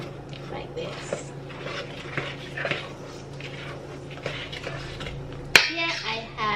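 Ingredients for breadfruit bread mixed in a bowl, with steady scraping and tapping of a utensil against the bowl, a few sharper clinks, and a louder knock near the end.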